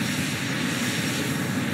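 In a flight video game, an airplane engine runs at full throttle and roars loud and steady without a break for the whole short stretch.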